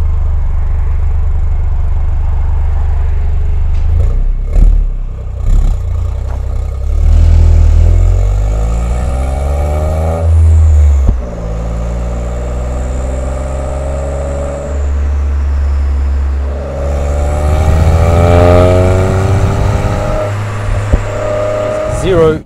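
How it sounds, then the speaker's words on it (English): A Toyota GR Yaris fitted with a titanium exhaust pulls hard on the freeway, its engine note rising loudly through the gears in two long surges, with someone talking over parts of the run. "So I'm going to do some pulls on the freeway, 0 to 100, just normal freeway driving"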